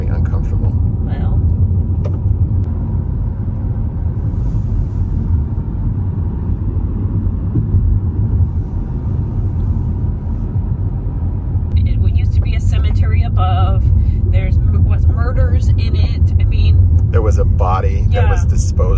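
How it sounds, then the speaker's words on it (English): A car speeding along a 30 mph road near a tunnel, its engine and road rumble loud and steady from inside the cabin, with voices talking over it in the second half. "Frankie's driving way too fast"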